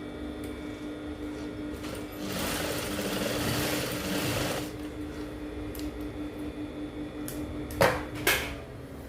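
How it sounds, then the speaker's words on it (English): A sewing machine topstitches over the seam allowance of a fitted pencil skirt with a steady mechanical whir for a couple of seconds. Quieter handling sounds follow, then two sharp clacks near the end. "you will sew on top of the sewing allowance like so"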